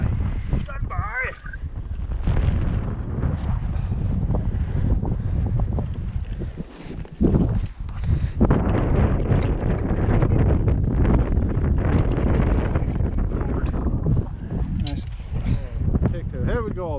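Strong gusts of wind buffet the microphone in loud, rumbling waves, with people talking intermittently underneath.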